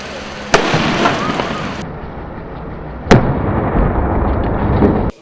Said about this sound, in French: la neutralisation du colis à l'aide du canon et du démineur en tenue lourde qu'il a amené sur site